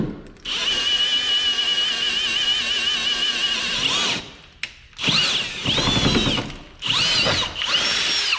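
Power drill boring bolt holes through a steel flange on an older, rusty lifted truck, a loud steady whine for about four seconds, then three shorter bursts of drilling with brief pauses between them.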